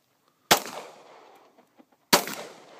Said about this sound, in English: Okay, first shot.